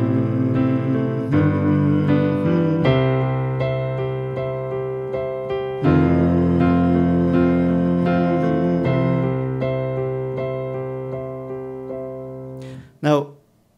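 Piano chords played with poor voice leading, the C jumping around between voicings: a slow series of sustained block chords, clear and close, each struck and held before the next, with no talking.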